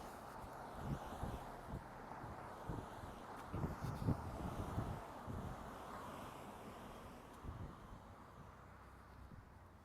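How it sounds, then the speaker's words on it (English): Gusty wind buffets the microphone outdoors in low, uneven rumbling bursts, rising and falling over a steady airy rush. "It's a very blustery, windy day as well."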